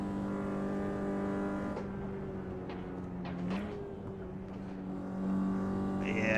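A RenaultSport Megane 275 Trophy R on the Nürburgring, its engine note dropping under braking, then rising again as it accelerates, droning steadily from start to finish.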